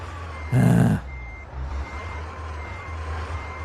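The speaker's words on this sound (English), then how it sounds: "Kind of blind reversing at the moment." A single short reversing beep from a truck in the Euro Truck Simulator game, loud and close, over a steady low engine rumble that continues after it.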